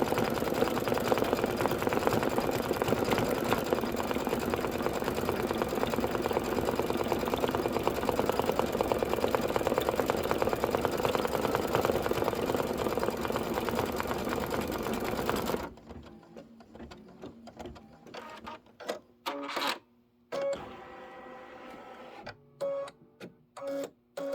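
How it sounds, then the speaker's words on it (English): An embroidery machine stitches berries and tulip detail in a fast, steady mechanical clatter for about fifteen seconds, then stops, followed by a few short start-stop bursts of stitching. "we'll stitch the berries and tulip detail"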